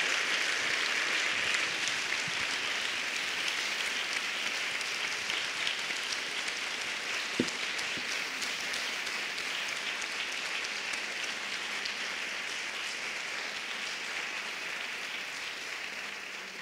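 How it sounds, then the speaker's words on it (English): Long, sustained applause from the audience at a Nobel lecture in a large hall, a steady broadband wash of clapping that holds evenly and only slightly fades toward the end, with no voices over it. "long applause from the floor"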